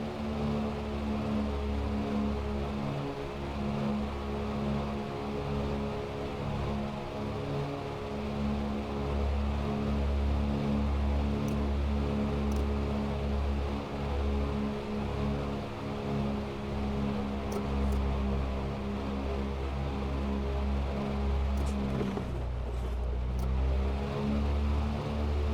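Twin radial piston engines of a B-25 Mitchell bomber run up to high power on the brakes in Microsoft Flight Simulator 2024, a loud, steady, deep droning roar holding for the whole stretch with slight pitch shifts near the end.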